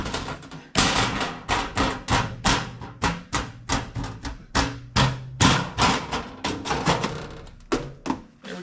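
A stainless steel trim piece being fitted into place in a toterhome's living quarters gives a rapid, steady series of loud, close knocks and thumps, about two to three per second, with no talk.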